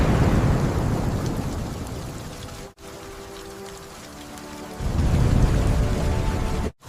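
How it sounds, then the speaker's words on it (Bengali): Low rumbling thunder rolls in from a distance during a storm in a Bengali ghost cartoon, with a steady wash of rain-like noise, a short gap midway and a louder swell toward the end. "দূর থেকে বজ্রপাতের আওয়াজ আসছে।"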